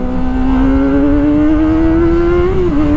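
Kawasaki ZX-25RR sport motorcycle engine held at a high, steady rev, a loud close buzzing tone that rises slightly and dips briefly near the end, continuous for three seconds with no talk.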